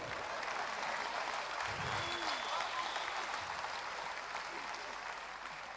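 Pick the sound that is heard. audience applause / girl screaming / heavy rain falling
audience applause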